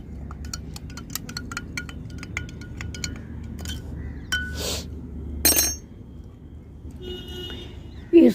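A spoon clinks repeatedly against a glass as tea leaf powder is stirred into water, producing quick light ticks over a low background hum, followed by a couple of brief louder knocks.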